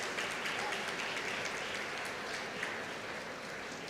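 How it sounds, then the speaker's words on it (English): A large convocation audience applauds undergraduate students receiving degrees, a broad wash of clapping that stays steady and even from start to finish. "A big round of applause to the undergraduate students."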